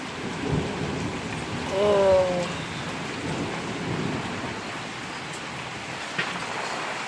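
Heavy rain pours steadily in a sudden thunderstorm, with a low rolling thunder clap swelling near the start and fading into the downpour; a person briefly exclaims.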